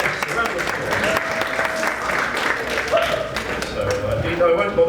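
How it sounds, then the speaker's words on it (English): Audience applause for panel guests at an animation industry conference, a dense, steady clapping that lasts throughout, with some talk mixed in. "oh yes, a round of applause."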